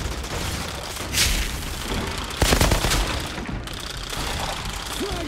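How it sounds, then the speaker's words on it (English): Gunfire in the Outriders video game: sharp bursts of shots and booming impacts ring out in a few loud clusters over a steady background of battle noise. "Where are they shooting me from?"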